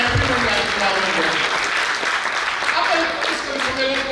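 Crowd clapping at an Indian poetry gathering, a kavi sammelan, rippling applause from a seated audience that stays steady throughout while someone speaks over it.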